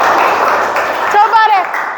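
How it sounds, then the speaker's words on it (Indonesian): A classroom group applauds for about a second in a dense burst of clapping, which then gives way to a voice speaking. "Oke, mana aplausnya?"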